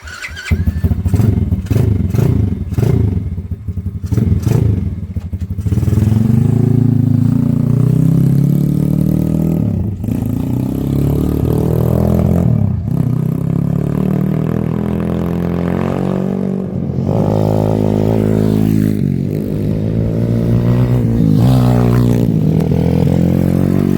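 A custom Honda ATC 70 three-wheeler runs loud and close with a steady, buzzing small-engine drone that rises and falls as it is ridden, throttle swells breaking through for the whole stretch.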